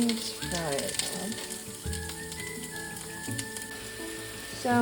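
Chicken and potatoes fry together in a pan, giving a steady close sizzle and crackle that runs the whole time, with a brief clatter near the start and more near the end.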